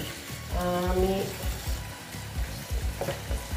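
Chicken pieces for Afghani chicken frying gently over low heat in a pan, with a steady sizzle and repeated scraping of stirring; a voice briefly sounds over it early on.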